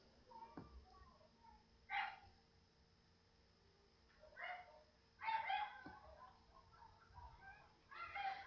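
Neighbours' dogs bark and whimper in short, distant bursts repeated every second or two, faint behind a steady background hum, with no talking over them.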